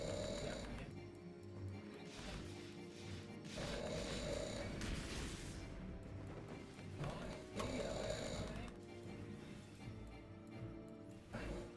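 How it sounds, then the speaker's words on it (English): Snoring from a sleeping character during a Final Fantasy XIV Frontline match: slow, repeated breathy swells about every few seconds, mixed in with steady game sounds. "Yeah, I could hear him snoring."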